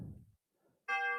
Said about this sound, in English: It put the chimes on the lower keyboard for me.